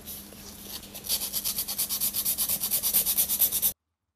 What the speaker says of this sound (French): il va falloir que je ponce le devant les plaquettes, parce qu'une fois que ça sera collé, je pourrai pas y atteindre